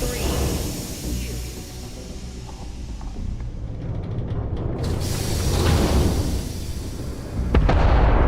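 A particle detonation explosion in the space game Starfield: a sustained low, rumbling roar that swells and stays loud and dense for several seconds, with a sharper crack near the end.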